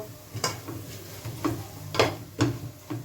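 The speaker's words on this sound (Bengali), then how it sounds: "এটা একটু ফ্রাই হোক ভালো করে" Spices fry in a pan under a low, steady sizzle while a spoon scrapes and stirs through them in several distinct strokes, close by and with no one speaking.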